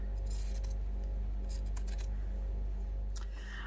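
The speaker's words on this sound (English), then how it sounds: "we're just going to get our pinking shears and we're just going to take some of that bulk out" Pinking shears snip through bulky fabric seam allowances on a sewn lunch bag, giving a few crisp, close cutting clicks over a steady low hum.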